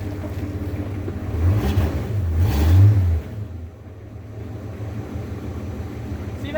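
A 1981 Ford Mustang engine fitted with a new HEI distributor revs once, swelling into a loud, close roar for a couple of seconds before dropping back to a steady rumbling idle.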